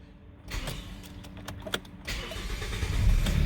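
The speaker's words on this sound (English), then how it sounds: "when you're starting the car up" A 2015 Hyundai i30 with an engine cutting-off fault starting up: a short cranking burst, then the engine catches and settles into a rising, steady idle, heard close with no talk.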